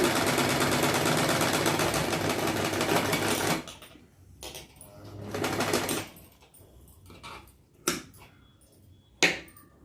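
A sewing machine runs in a long, loud burst of steady stitching as it sews thread piping with a presser foot, then stops and restarts in shorter runs with clicks and pauses between.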